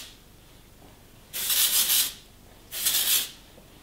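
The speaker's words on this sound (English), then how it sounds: "I use the Orbe texturizing spray and I'll just randomly just grab it and just spray." Two short bursts of Oribe texturizing aerosol hair spray, hissing for about half a second each with a brief pause between, close by in a quiet room.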